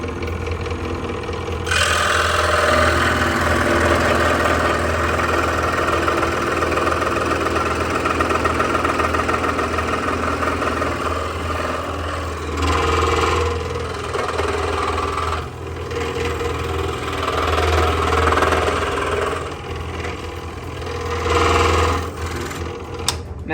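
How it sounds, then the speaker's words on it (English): A scroll saw cuts wood for a box joint, its motor buzzing steadily with a rapid reciprocating hum, the blade load shifting as the cut turns and pauses, close and alone without talk. "I'm going to do these ones on the scroll saw to show you a little bit of this technique"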